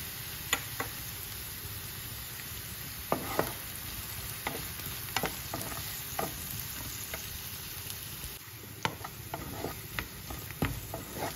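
Beetroot and chopped garlic frying in a pan, a low steady sizzle broken by frequent sharp ticks and clacks of a spoon stirring against the pan, close and fairly quiet with no talking.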